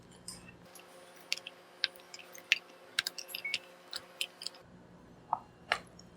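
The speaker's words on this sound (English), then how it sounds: "I think better to cut it half like this." A knife slicing through a log of chewy Korean garaetteok rice cake, faint soft taps and squishy clicks scattered across a quiet kitchen background, close up.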